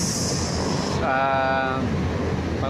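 MRT train in Metro Manila: a steady rumble and roar with a brief rising electric motor whine in the middle, heard amid the general noise of the station.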